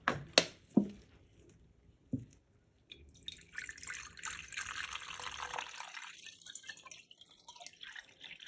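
Distilled water poured into a container for a no-heat shower gel recipe: a few loud drips and knocks at first, then a quiet, steady trickle of pouring liquid that fades out.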